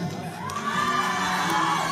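A fan-meeting crowd in a cinema cheers and shrieks in a dense, sustained roar of excited voices, close and loud throughout.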